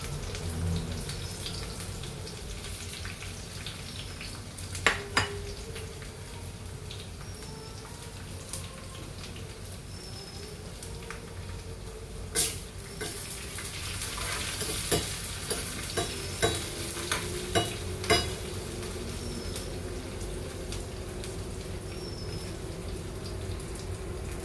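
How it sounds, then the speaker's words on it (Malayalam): Chopped onions sizzle in hot oil with mustard seeds for a Kerala mango pulissery, a continuous fizzing hiss with stirring scrapes and scattered sharp pops from the seeds, moderately close and without speech. "ഉള്ളി ഇട്ട് കൊടുക്കാം"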